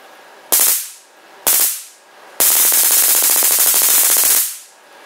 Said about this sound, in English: It's very loud spark.